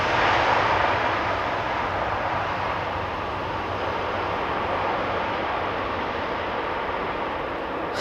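A KLM airliner's jet engines roar steadily at Amsterdam Schiphol Airport, a loud continuous broadband rush that fades slightly over the span.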